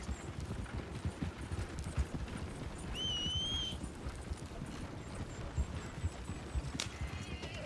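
Horse hooves clip-clop steadily in Red Dead Redemption 2, close and rhythmic, with a short high whinny rising partway through and faint background sounds.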